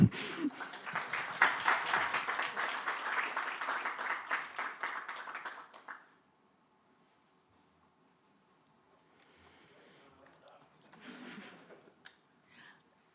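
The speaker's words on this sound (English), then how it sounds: "huge round of applause" Audience applause at a stakeholder forum, a dense burst of clapping for about six seconds that stops abruptly, followed by quiet room noise and a softer patch of clapping or shuffling later.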